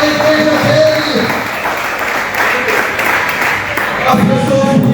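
A church congregation claps and praises together, making a dense, continuous wash of applause and voices with talk mixed in throughout.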